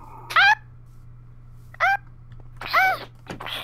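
A Minecraft cat meows three times, each a short, bright call a second or so apart, loud and close over a faint steady game hum.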